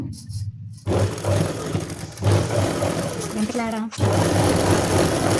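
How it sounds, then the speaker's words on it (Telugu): A sewing machine stitches blouse fabric in fast, steady whirring runs, broken by two short pauses. A person talks over the machine. "మళ్ళీ మిషన్ కుట్టే వేస్తున్నాను"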